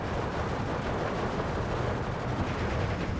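Battle din from Steel Division 2 as a T-34 tank fires on Panzer IVs: a dense, continuous roar of overlapping gunfire and blasts, loud and unbroken, with no voices.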